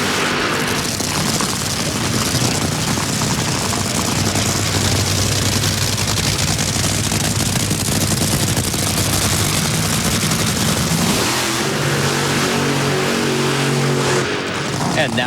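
8,000-horsepower Top Fuel dragsters at an NHRA drag racing event in Chicago roar through burnouts, a loud, sustained, crackling blast that fills the air before easing into a lower rumble near the end, with a voice talking over it.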